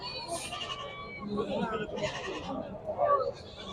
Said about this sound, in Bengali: দেখেন কত ছাগল সবে মাত্র শুরু হয়েছে